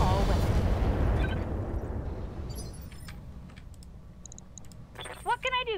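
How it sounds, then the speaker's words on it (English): Mech weapons fire in the Roguetech video game, a loud roaring burst of blasts that fades over a few seconds, then faint clicks and a voice near the end. "Firing all weapons."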